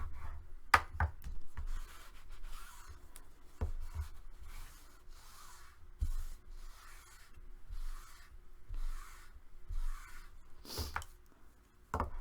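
Paper pages of a mini album are burnished by hand, producing soft repeated rubbing strokes in a steady rhythm, broken by a few light taps, close and quiet.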